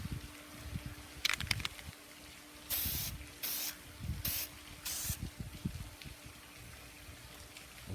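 STEEL-IT stainless steel anti-rust coating sprays from an aerosol can onto the underside of a part: four short, sharp hissing bursts in quick succession, close and clear, with faint handling noise around them.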